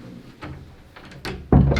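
A door swings shut indoors with a firm thud near the end, preceded by faint shuffling and handling noises.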